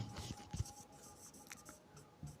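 Chalk or marker scratches out numbers and fractions on a classroom board in short, quiet strokes with brief pauses between them.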